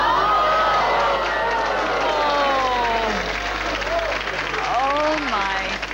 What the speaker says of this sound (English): They were applauding till then